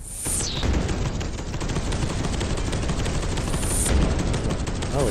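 Turret firing in the video game Space Hulk: Deathwing, a loud, dense and continuous burst of rapid automatic gunfire lasting throughout, with a brief mechanical whine near the start and again near the end.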